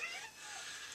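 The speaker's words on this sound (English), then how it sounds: "sorry guys, the cat's in here" A house cat meows indoors in a short, high, wavering call that fills the room, with no talk over it.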